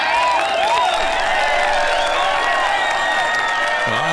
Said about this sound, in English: They're still cheering for those Savages.